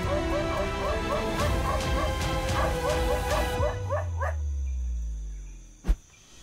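A dog barks repeatedly in quick rhythmic bursts, fairly close, then falls quiet, leaving a low rumble and a single sharp thud near the end.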